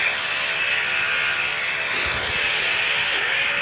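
Simulated Boeing C-40 Clipper jet in a flight video game, a steady loud whining engine roar with hissing high tones held throughout, a faint rising tone swelling near the end.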